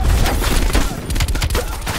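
A suppressed gun fires rapidly in Call of Duty Black Ops Cold War, a loud, dense string of muffled thumping shots in quick rhythm, with a brief dip in the middle before the burst resumes.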